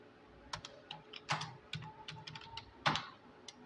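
Computer keyboard typing entries in Tally ERP-9 accounting software, a brisk series of crisp key clicks with a couple of heavier strokes, near and fairly quiet, no talking.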